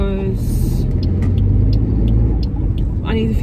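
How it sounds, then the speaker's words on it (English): A car is driven toward town at night, heard from inside the cabin. A steady loud low road rumble and engine drone runs throughout, with short bits of tonal sound at the start and the end. "I'm currently driving to town"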